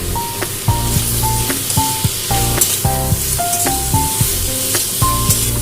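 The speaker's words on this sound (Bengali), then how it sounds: "একেবারে হালকা ভেজে নেবো চিংড়ি মাছ আলুর সঙ্গে।" Prawns and potatoes seasoned with turmeric and salt fry in hot oil in a pan, giving a loud, continuous close sizzle. A utensil scrapes and stirs in a steady rhythm over it, and no one speaks.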